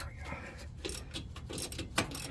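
A wrench works a bolt loose on the front shock of a lifted 4x4 Astro van, giving close, irregular metallic clicks and rattles with a few sharper knocks.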